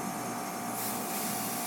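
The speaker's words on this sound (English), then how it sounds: "And then we're going to purge it like the hose here" Refrigerant line on an HVAC system being purged through a hose, a steady broadband hiss of escaping gas that runs continuously at moderate level and brightens partway through, with no speech.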